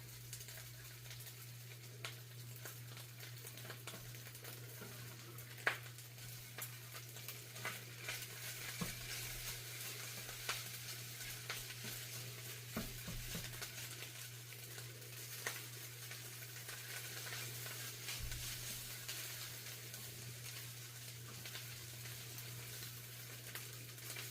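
An egg fries in a pan for a Filipino tosilog breakfast, giving a steady, soft sizzle with scattered light crackles and faint clinks over a constant low hum, with no talking.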